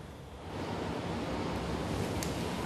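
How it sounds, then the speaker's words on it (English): Strong wind roars steadily along the coast at Ballina in northern New South Wales as a cyclone approaches, a dense broadband rush that swells slightly after the first half second and stays loud throughout, with no voices. "Oh, Joe, it's getting pretty windy already here."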